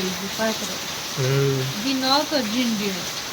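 Sudden heavy downpour in a rural Gujarat setting: a steady broadband hiss of rain fills the background while voices talk over it.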